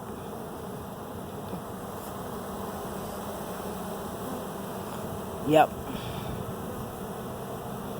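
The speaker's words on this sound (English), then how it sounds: "When they wiggle like that, they're telling the other bees that this is a good place." Steady insect buzzing from many bees hums continuously in the background, with a brief soft voice near the end.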